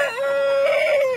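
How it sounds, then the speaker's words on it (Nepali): A single rooster on a goat and poultry farm lets out one drawn-out, fairly loud call lasting about a second, close by and alone. "यिनीहरू चाहिँ भालेहरू हुन्।"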